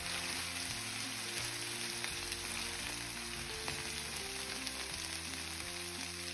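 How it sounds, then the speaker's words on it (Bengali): Shrimp with pepper and garlic fries in a pan with a continuous crackling sizzle, steady and close throughout, over a faint low background hum. "আমি একটু ফ্রাই ভাজা ভাজা করে ফেলেছি"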